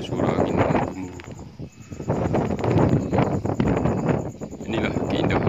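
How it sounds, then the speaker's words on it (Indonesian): Strong wind roars steadily across a hilltop above Lake Toba in drizzle, a broad, continuous rush that swells and dips, blustering against the microphone with a brief lull partway through. "cuaca sedang gerimis, angin kencang, lihat tanaman bergoyang-goyang oleh angin dan suara-suara angin gemuruh"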